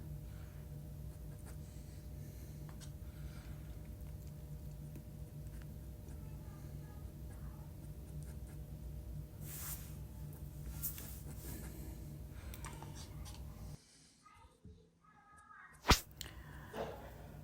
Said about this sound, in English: if you notice, I've been using the same brush